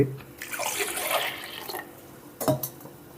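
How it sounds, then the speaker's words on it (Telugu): Water poured into a pot of sambar with masala gives a close splashing pour lasting about a second and a half, then a brief second splash after a short pause. "ఇప్పుడు ఇందులో కొద్దిగా వాటర్ కూడా యాడ్ చేసి"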